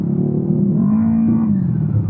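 Heavy road traffic near San Miguel toward the Nueva Ecija boundary, trucks included: a steady close engine rumble with one vehicle revving and its pitch rising and falling over about two seconds.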